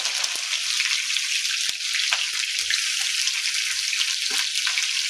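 Onions frying in hot oil for Hyderabadi masala chicken give a loud, steady broadband sizzle that keeps going, with a few scattered crackles and pops.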